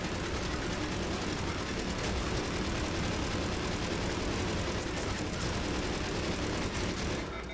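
Sustained rapid fire from a Geth Juggernaut's heavy regenerating-ammo gun in Mass Effect 3 multiplayer, a dense unbroken stream of loud shots lasting nearly the whole stretch before cutting off at the end.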